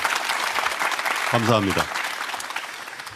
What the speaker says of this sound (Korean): 여러분 격려의 박수 한번 크게 주시겠습니까?